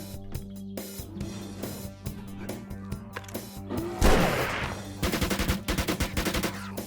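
Gunfire aimed at a bear in the video game 7 Days to Die: scattered single shots early on, a heavy crashing burst near the middle, then a fast rhythmic volley of close, loud shots.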